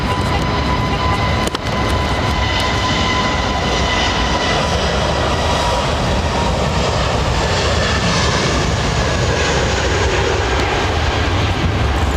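A steady, loud roar of jet aircraft engines fills the air at London Heathrow Airport, a continuous broadband rumble that holds constant throughout with no talking.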